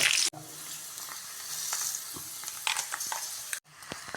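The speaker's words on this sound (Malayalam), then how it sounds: "ചൂടായ എണ്ണയിലേക്ക് തേങ്ങാക്കിടാം" Roasted, crushed grated coconut dropped into hot oil for an Onam-style koottu curry, giving a steady close sizzle with a few stirring clicks, broken by two short sharp gaps where the sound cuts out.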